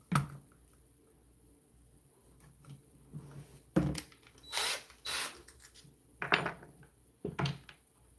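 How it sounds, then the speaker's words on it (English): A power drill whirs in several short bursts separated by pauses, with faint clinks and handling noises in between. "We're going to go ahead and use this drill bit,"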